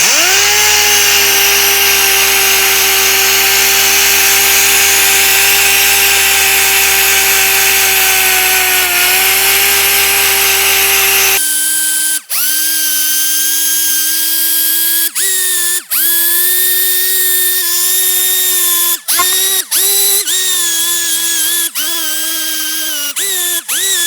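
An 80-grit dual action sander, a Gold Pro USC series DA, feathering back body filler during dent repair, its steady loud whine running continuously, then broken into short bursts as the pad lifts and reapplies.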